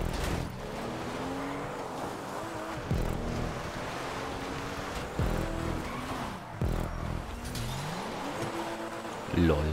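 Car engine revving and tires sliding as a vehicle skids off-road during a rally-style race in GTA, with steady motor drone and bursts of scraping, under continuous talk.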